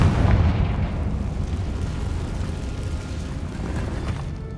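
Confringo fire explosion spell cast in the Hogwarts Legacy video game, a loud, close, sustained booming blast that rumbles steadily through the whole moment without fading.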